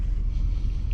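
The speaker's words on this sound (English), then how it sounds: "The wind has been hellacious here." Strong wind buffets a campsite, a steady low rumble of gusts pressing on the microphone throughout, with no talk.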